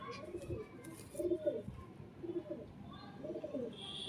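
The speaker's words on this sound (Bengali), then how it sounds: "এই হচ্ছে নর পায়রা" A male pigeon coos in repeated low, throaty rolling calls, close and soft, with a few faint chirps of other birds in the background.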